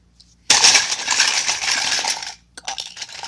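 A set of toy Barbie car keys dropped onto a hard surface, giving one sudden bright metallic clatter that rings on for about two seconds before a few smaller jingles settle, loud and close with no voices.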